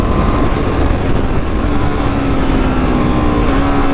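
A new Norton V4SV superbike on its first ride with cold tyres gives a loud, close engine roar mixed with wind rush. The drone holds steady and then climbs gradually in pitch as it accelerates.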